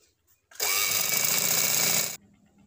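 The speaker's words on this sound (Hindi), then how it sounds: "इसी की कन्नी पे आप सिलाई लगा लें" A sewing machine stitches along the edge of a frock in one continuous buzzing run of about one and a half seconds, close and loud, starting and stopping abruptly.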